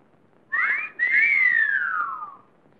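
A man whistles a warbling imitation of a nightingale's song, a short rising phrase followed by a longer gliding, trilling phrase that slowly falls away. It is close, clear and alone, in a scene from an Egyptian film.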